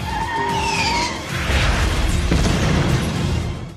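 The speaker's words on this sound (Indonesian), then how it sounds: "tembakan rudal tadi telah meledakkan benteng lapas" A missile blast destroys a prison fortress in a heavy, rumbling explosion that rolls on for several seconds, with crashing debris and a sharp crack partway through, loud and close with no voices.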